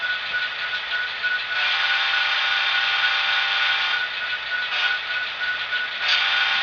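A sound decoder in an Athearn SD70ACe model locomotive in Union Pacific 1982 heritage livery sounds its horn, a steady, tinny, sustained electronic tone that holds level for several seconds with small surges.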